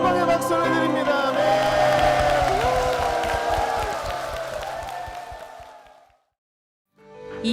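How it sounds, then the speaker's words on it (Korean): Church congregation applauding in praise to the Lord, a dense sustained clapping crowd with some cheering that swells, then fades out to silence before a brief return. "주님께 영광의 박수를 드립니다"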